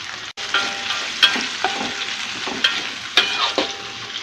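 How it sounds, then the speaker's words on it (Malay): Lemongrass, chopped chili and garlic sauteing in preheated hot oil, giving a steady close sizzle and frying hiss with occasional stirring scrapes and louder crackles throughout. "So firstly we preheat this oil, kita panaskan minyak, and now we sauteing."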